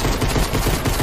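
Dense, rapid gunfire from Fortnite rattles continuously and loudly throughout, a fast burst of overlapping shots with no speech.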